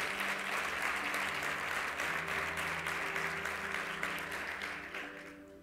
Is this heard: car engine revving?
no